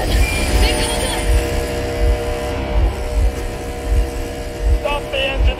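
Vehicle engine running in the video game Metro Exodus, a steady low rumble with periodic thumping pulses throughout, under voices speaking.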